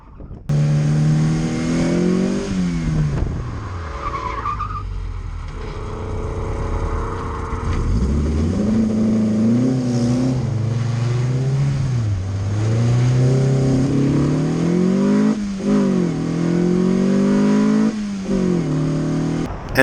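A car on a race circuit powers out of corner ten onto the straight, its engine climbing through repeated loud, close rev sweeps and gear changes over about twenty seconds.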